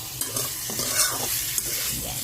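Pork seasoned with salt and pepper being stirred in a hot pan, a close, loud sizzle with scraping and clicking stir strokes over a steady fry, no talk.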